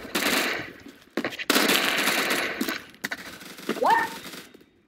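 Bursts of automatic gunfire in the video game Phantom Forces come loud and close in several rapid volleys separated by short gaps, followed by a brief tonal in-game sound.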